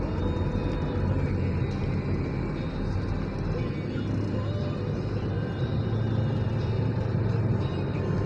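A car cruises along a highway on a long road trip, heard from inside as a steady, loud engine and road rumble with no breaks.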